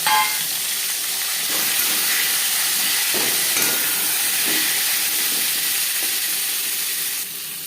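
Pieces of shol (snakehead) fish fry in hot oil in a pan, giving a loud, steady sizzling hiss that holds constant for the whole stretch and eases slightly at the very end.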